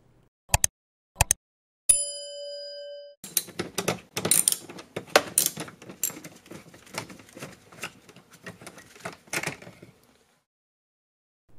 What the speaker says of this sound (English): Right behind the courtesy light panel, there's an 8mm bolt that has to be removed.